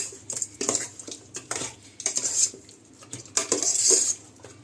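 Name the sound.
mixing chicken with yogurt and spices in a pot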